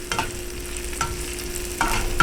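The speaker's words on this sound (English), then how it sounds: "stir for 1 or 2 minutes, even 1 minute would be sufficient" Raisins and cashews fry in a pan for chicken biryani while a spoon stirs them, giving a soft sizzle under a steady low hum and a few clear scraping strokes.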